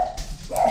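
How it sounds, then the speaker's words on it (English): A dog named Bella gives a couple of short, sharp barks from nearby indoors, brief and fairly loud. "My dog's barking."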